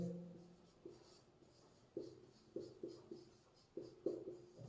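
Pen strokes on paper during a Class 10 probability lesson, soft and close, in a halting rhythm of short scratchy strokes and taps with brief pauses between, and no talking.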